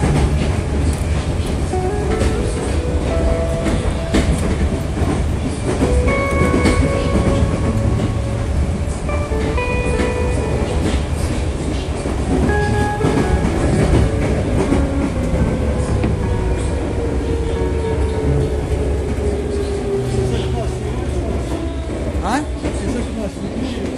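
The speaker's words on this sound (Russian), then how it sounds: "Новое наземное метро" Steady rumble and clatter of a moving above-ground Tashkent metro train on the Sergeli line, with squeals and rhythmic rail clicks throughout; a voice talks over the noise.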